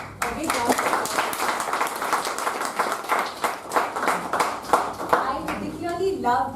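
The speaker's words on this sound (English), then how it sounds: "So, a big round of applause." Audience applause at a club district meeting, a dense patter of clapping hands that swells and holds steady, fairly close, with faint voices mixed in near the end.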